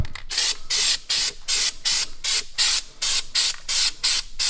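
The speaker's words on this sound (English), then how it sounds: "Primer sprayed, and now hopefully I don't die from spraying this stuff." Primer spray can hisses in a steady series of short bursts, about a dozen evenly spaced blasts, close and loud with brief silences between them.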